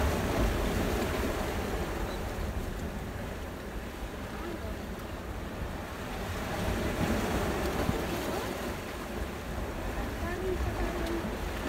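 Rough sea surf rolls in at Church Bay beach in Bermuda, a continuous, dense roar of breaking waves mixed with blustery wind buffeting the microphone, with no clear pauses.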